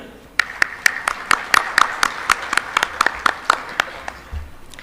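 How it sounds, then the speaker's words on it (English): Sparse, crisp claps from a small audience at a panel event ring out one after another in an uneven rhythm, thinning out toward the end. "show our appreciation with a hearty applause for our 4th panelist, Dr. Umair Haroon"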